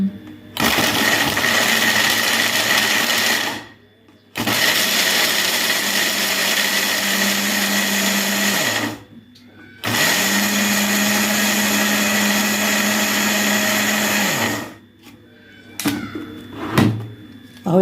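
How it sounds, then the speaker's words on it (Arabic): A blender grinds frozen lemon peel loudly in several long bursts separated by short pauses, its motor pitch steady, ending with a few brief clunks. "انا هعمله في الخلاط قدامكم وهتشوفوه."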